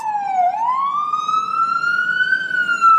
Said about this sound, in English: Excuse the ambulance.